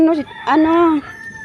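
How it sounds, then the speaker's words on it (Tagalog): A rooster crows nearby at a wet market, a clear drawn-out cock-a-doodle-doo with a short opening note followed by a long sustained call. "mayroon pang huni ng manok"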